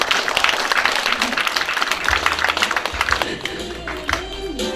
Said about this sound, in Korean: 다시 박수를 주시면 음악이 나옵니다